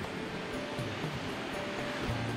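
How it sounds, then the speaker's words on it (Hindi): The Chandrabhaga river near Udaipur in the Himalayas rushes in a steady, broadband wash of flowing water, continuous and fairly distant-sounding with no voices. "थोड़ी ही दूरी पर बह रही है चंद्रभागा नदी"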